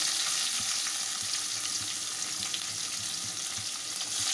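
Dense, even sizzling of onions frying in hot oil in a wok with dried red chillies and tempering spices, with soft stirring scrapes underneath and no talking.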